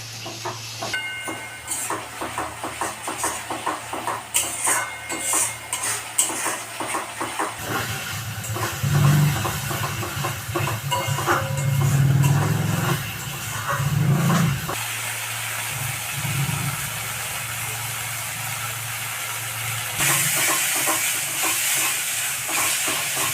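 Masala of salt, turmeric and Kashmiri chilli sautéed and stirred in a pan, a sustained sizzling hiss with scraping stir strokes that swell and ease over time.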